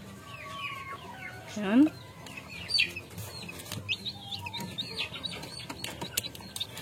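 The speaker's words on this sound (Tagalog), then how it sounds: "Gutom na yung mga Brahma natin, mga kabakard, at ayan, oh, nagwawala na sila doon sa kanilang kulungan." Hungry Brahma chickens cluck and squawk restlessly in their cage, with a rooster-like call rising early on and a steady scatter of clucks throughout, under a brief spoken word.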